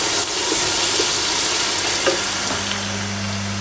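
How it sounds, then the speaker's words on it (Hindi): Ginger and garlic frying in a pan, a steady loud sizzle that stays continuous throughout, with a low hum entering toward the end and no talking. "थोड़ी देर के लिए जिंजर गार्लिक को फ्राई करना है हल्की सी खुशबू आने तक।"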